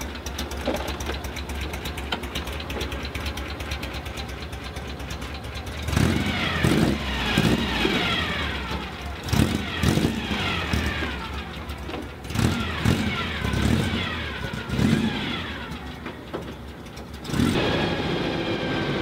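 A lowered car pulls out of a driveway, its engine note steady at first, then rising and falling in several revving surges as it maneuvers, fairly close and loud with no talking.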